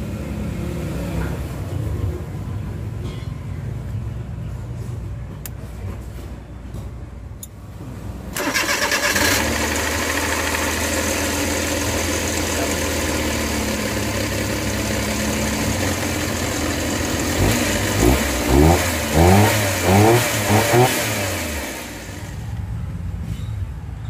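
A Suzuki Multicab K6A that would not start gets a fuel hose reconnected. It cranks, catches and settles into a loud idle, then a burst of several quick revs rises and falls before easing back. Nobody talks.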